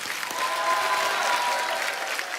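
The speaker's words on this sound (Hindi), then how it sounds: "एक बार जोरदार तालियां हो जाए" Enthusiastic applause from a television comedy show studio audience, a steady wash of many hands clapping throughout, fairly close and sustained.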